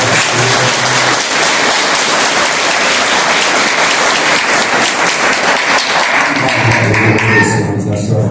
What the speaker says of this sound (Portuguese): Mais uma vez, recebe os nossos aplausos.